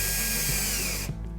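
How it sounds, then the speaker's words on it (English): A power drill drives a wood screw through a soft plastic power strip into pegboard backing, a loud steady whine that cuts off abruptly near the end. "It will actually drill straight through the power strip and into the pegboard backing."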